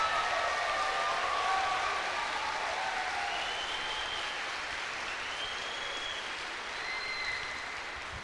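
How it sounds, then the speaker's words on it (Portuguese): Church audience applauding during a sermon, a dense, steady wash of many hands clapping at full volume throughout, with a few faint whistles or cheers riding over it. "Quer aplaudir ou vou ter que pedir?"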